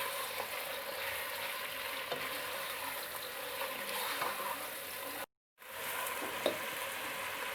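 Mutton with garlic-ginger paste frying on high heat in a pan, a steady sizzle with occasional stirring clinks and a brief break, moderately quiet and continuous with no voices.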